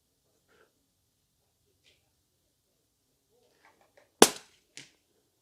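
A Ruger American rifle in 300 Blackout, fitted with an MDT Fieldstock, fires at a center target 100 yards away: a single sharp, loud report followed by a smaller crack moments later, with faint breathing and movement beforehand.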